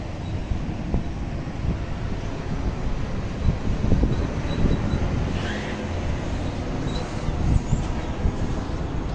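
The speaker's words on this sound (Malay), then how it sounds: "Angin kuat." Strong wind buffets the microphone outdoors near a new house facing a town and highway, giving a continuous loud rushing roar with gusty swells throughout and no talk.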